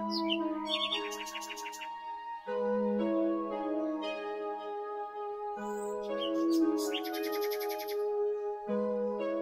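A rose-breasted cockatoo (galah) gives short bursts of chirps over calm, sustained relaxing music, with the bird calls coming in two brief clusters.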